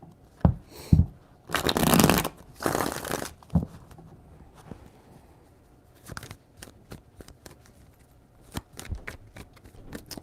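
Tarot cards being shuffled by hand, with a few sharp riffling bursts and longer flurries of papery flicking, followed by scattered soft taps and card snaps, close up and without speech.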